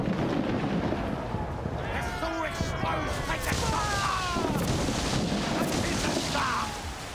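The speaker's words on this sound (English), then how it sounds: "Oh wow, the mortar does a lot of damage, huh?" Mortar shells firing and exploding in the pirate game Assassin's Creed 4, a sustained rumble of booms and blasts with whistling debris layered over loud battle noise, a voice talking over it.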